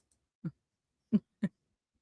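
A cockatiel makes three short, soft calls, one at a time with a pause before the last two, heard alone.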